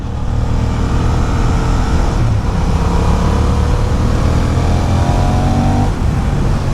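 A 2023 Honda Hornet motorcycle riding along a road, its engine droning loudly and steadily with wind rush throughout, a small dip and shift in tone partway through as the revs change.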